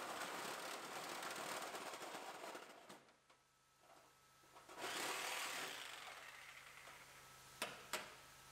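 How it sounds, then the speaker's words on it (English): Reciprocating saw with a toothed blade cutting the sheet-metal quarter panel of a GMC Yukon damaged in a semi collision, a steady loud buzzing rasp for about three seconds, then quieter intermittent cutting and two sharp knocks near the end. "So now what we didn't shake loose with the Sawzall"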